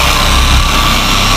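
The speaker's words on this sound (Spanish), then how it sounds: "para que trabaje mejor el disco de pulimento." A polishing machine fitted with a polishing disc works on car glass during detailing, its loud, steady broadband whir filling the whole stretch as it speeds up, with no voices.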